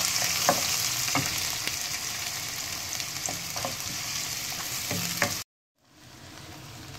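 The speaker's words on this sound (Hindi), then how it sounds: "अब मैं इसमें प्याज को लाइट ब्राउन करूँगी।" Onions frying in about a quarter cup of hot oil give a steady, close sizzle with occasional stirring knocks of a spoon against the pan, then the sound cuts out abruptly near the end; no speech.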